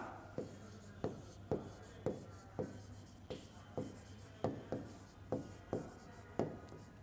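Pen scratching out a math solution on paper, a percentage profit problem, in a run of about fourteen sharp, regular strokes close to the microphone over a quiet room hum.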